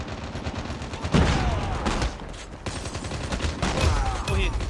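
Gunfire bursts in the mobile video game Call of Duty Mobile, dense rapid shots and impacts under continuous loud game noise, with a few brief sweeping effects.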